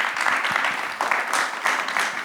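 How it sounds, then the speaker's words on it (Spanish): An audience at a business conference on building future cities applauds the panel participants, with steady, full clapping in uneven swells that carries on for a couple of seconds. "Pido un aplauso para todos los participantes,"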